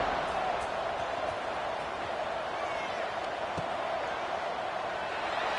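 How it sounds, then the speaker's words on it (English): Football stadium crowd buzzing after a score, a broad steady roar of many voices heard from a distance, continuous throughout with no single voice standing out. "this crowd is buzzing after that last score"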